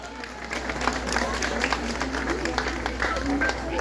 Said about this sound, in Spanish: ¡Fuerte el aplauso para ellas!